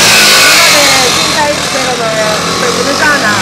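A BMW G310 motorcycle engine at a moto gymkhana event, revving loud and close at first and then settling lower while a commentator talks over it.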